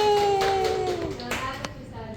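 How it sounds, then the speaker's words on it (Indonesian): A classroom of students gives a short round of applause during a practice teaching lesson. Brief, light clapping mixes with voices close by. "Oke, baik, beri tepuk tangan semuanya."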